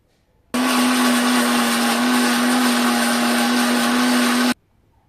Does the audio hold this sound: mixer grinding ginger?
yes